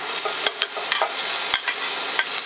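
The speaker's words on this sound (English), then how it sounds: "We'll saute all the onions we have." Onions sautéing in coconut oil for Filipino pancit, a steady close sizzle broken by repeated sharp scrapes and clicks of a utensil stirring in the pan.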